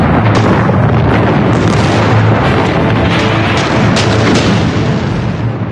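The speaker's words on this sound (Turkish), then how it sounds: "savaşın en ağır silahlarıyla yapılan yaylım ateşi başladı" Heavy artillery barrage in a World War II documentary, a continuous loud roar of overlapping explosions and booms with no gaps throughout.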